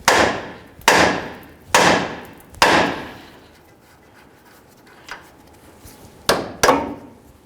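Sharp, ringing hammer blows strike an outer tie rod end in the steering knuckle of a 1992-2000 Chevy Tahoe: four evenly spaced hits, a pause with faint clinks, then two more close together.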